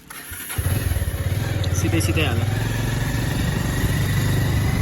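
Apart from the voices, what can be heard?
motorcycle engine starting and idling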